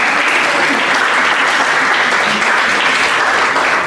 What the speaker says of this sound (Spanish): Vamos a aplaudir otra vez y los aplausos van.